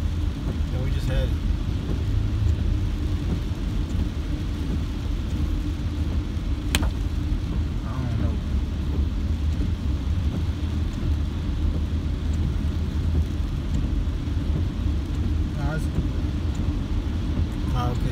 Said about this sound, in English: We're driving here, and it's pretty nasty out here